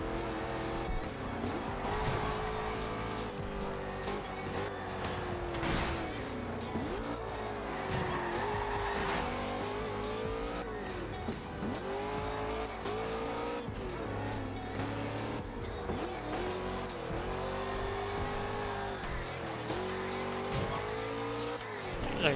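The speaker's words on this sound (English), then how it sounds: "like I said, you call it blower whine" A supercharged muscle car engine with blower whine, revving and surging loudly throughout, with tire squeal and skidding mixed in.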